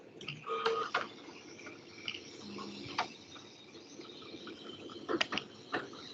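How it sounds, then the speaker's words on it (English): A 3D printer building a print layer by layer, giving off soft, irregular ticks and clicks over a faint steady mechanical hum, heard at moderate distance with no one talking. "The great thing about the 3D printer is that it does print in layers"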